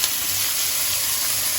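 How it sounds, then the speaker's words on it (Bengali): Chopped onion and green chilli fry in a pan for chana masala, giving a steady, even sizzle with a bright hiss that holds throughout at moderate level, with no talking. "এবার এটা দিয়েও আমি একটুখানি সময় এইভাবে ভেজে নেব"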